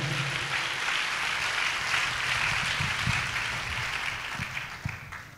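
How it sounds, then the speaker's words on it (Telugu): A church congregation claps loudly together in a steady, dense burst of many hands that carries on for several seconds and then gradually thins out toward the end. "చప్పట్లు కొట్టి దేవుడు మహింపరుద్దాం గట్టిగా."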